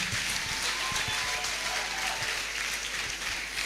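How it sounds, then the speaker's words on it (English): Audience applauding at a Caleb University employability fair, sustained steady clapping from a crowd filling the room throughout, with no speech on top. "Let's keep clapping for the convener of Caleb University Employability Fair."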